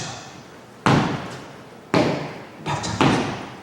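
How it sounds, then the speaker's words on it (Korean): Heavy footsteps land as four loud, booming thuds at uneven intervals, close and reverberant, each dying away quickly with nothing else heard. "발자국 소리죠."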